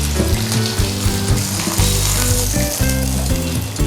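Kingfish fries in hot oil with a steady, loud crackling sizzle and bursts of popping that run without pause throughout.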